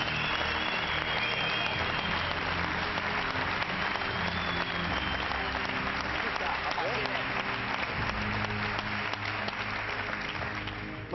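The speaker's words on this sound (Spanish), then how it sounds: "un fuerte aplauso para el chileno y la mujer." A studio audience on the Chilean reality show El Conquistador del Aconcagua gives steady, continuous applause for a Chilean contestant and a woman. Music or crowd noise sits under the clapping throughout.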